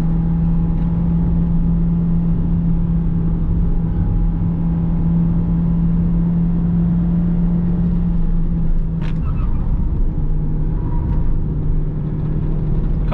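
A 2020 Peugeot 2008 1.6 automatic climbs a mountain road under acceleration, with a steady, loud engine drone and road rumble heard from inside the cabin and a brief clunk partway through.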